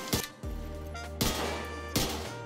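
Three sharp gunshots from the Liberty exotic pistol in the video game The Division 2, evenly spaced and punchy, each followed by a ringing metallic tail against a steady game background hum.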